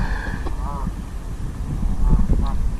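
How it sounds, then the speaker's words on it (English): Geese honk a few times near a fishing lake during a live angling match, faint and intermittent calls over steady outdoor wind and background noise. "I've got geese for company now"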